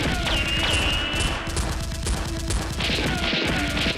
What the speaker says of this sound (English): The boss and his men return fire.